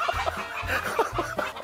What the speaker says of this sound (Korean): 닭이 막 뛰어댕겨서 무서워 죽겠어요